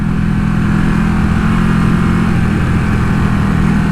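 A Ducati motorcycle engine running at a race track, a loud, steady, close mechanical drone with a low throbbing rumble that holds even without clear revving changes.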